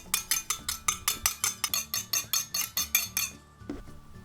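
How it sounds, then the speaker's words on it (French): Toy kitchen utensils stir play-dough cake batter in a pretend bowl, giving about fourteen quick, evenly spaced plastic clicks and scrapes before stopping. "Ensuite, on rajoute la farine et on mélange."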